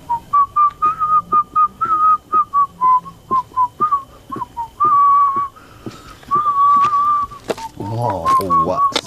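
A person whistles a bright tune in a steady run of short, clipped notes, then longer held tones, loud and close, with talking and some background noise toward the end.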